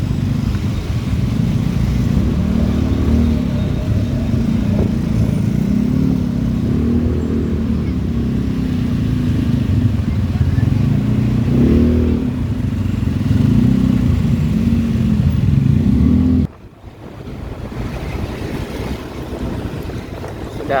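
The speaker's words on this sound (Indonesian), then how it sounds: "Macetnya langsung parah sekali di sini." Holiday traffic jam of motorcycles and cars on a West Sumatra road toward Mandeh, heard as a steady, loud low engine rumble mixed with heavy wind buffeting, cutting out briefly near the end.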